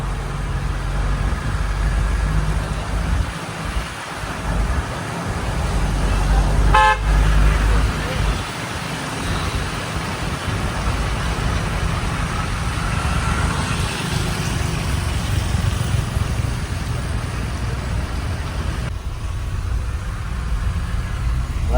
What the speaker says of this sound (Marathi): असं हे ट्रॅफिक आहे. या ट्रॅफिक मधून पास व्हायचंय.